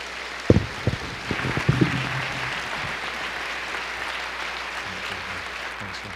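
An indoor audience bursts into a short round of clapping that rises quickly and fades after about two seconds, leaving quiet room tone.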